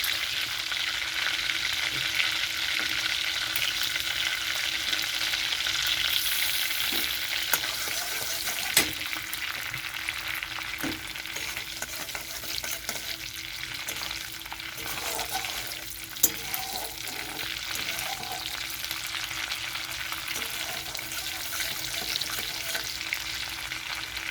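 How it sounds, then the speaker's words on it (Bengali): Garlic fries in oil left over from frying prawns, a continuous close hiss of sizzling with a few sharp clinks and stirring scrapes scattered through, no talking. "এখানে আমি ওই তেলের মধ্যে দিয়ে দিচ্ছি রসুন"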